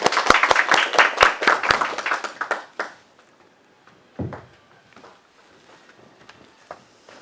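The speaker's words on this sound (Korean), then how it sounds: "감사의 박수 부탁드리겠습니다." An audience at an education forum in Gyeonggi applauds loudly for about three seconds, then the clapping fades to a few scattered claps and faint room noise.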